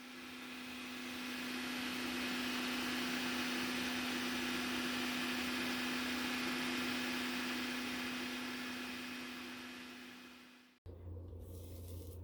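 A mixer grinder grinds soaked urad dal with a loud, steady high-pitched whir that runs for about ten seconds, then cuts off abruptly before a brief lower hum.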